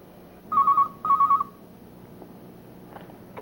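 A telephone rings indoors in two short electronic trilling bursts, each about half a second, followed by quiet room tone and faint clicks.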